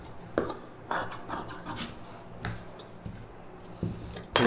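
Scissors snip through silk saree fabric for a star-neck blouse, giving a string of short, soft rasping cuts spaced irregularly at close range, with no talking.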